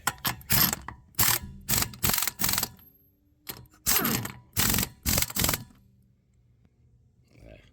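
Ratchet wrench tightening lug nuts on a car wheel after a flat tire, loud close bursts of fast clicking in repeated strokes with short pauses between them and a faint sound near the end.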